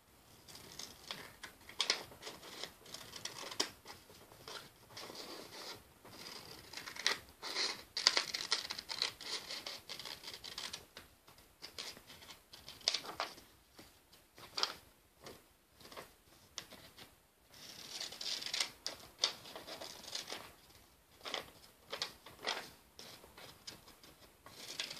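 Paper is cut by hand to make a notebook. Soft, quiet scratchy snipping and rustling runs in irregular bursts for the whole stretch, close but faint, with no talk.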